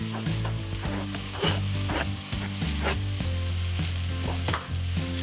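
Onions tipped into a pan of browned mushrooms for mushroom soup sizzle steadily and close, with a low hum running underneath and soft scraping or stirring knocks at intervals.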